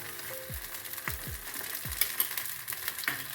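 Rice and wet garlic aayte batter frying in oil on a pan, a steady close sizzle with a few soft scraping clinks from a spatula, no voices.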